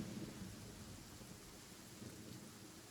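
Rain and thunder in the Genshin Impact video game: steady, even rainfall hiss with low rumbling thunder underneath, continuous and fairly quiet, with no voices.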